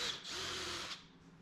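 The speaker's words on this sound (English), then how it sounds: "Unfortunately, I need a hole in between. That's okay, I have a drill." Power drill boring a hole for a luggage rack on a 2022 Honda CRF300L motorcycle, a single short whining burst of about a second with the motor note holding steady, close and fairly quiet, no talk.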